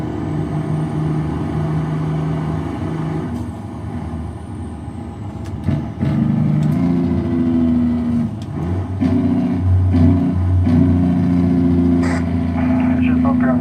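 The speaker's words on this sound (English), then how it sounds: "I think the engine sounds pretty good." Truck engine in American Truck Simulator drones steadily throughout, with a low rumbling tone that shifts pitch as the rig changes speed and a few sharp clicks and hisses partway through.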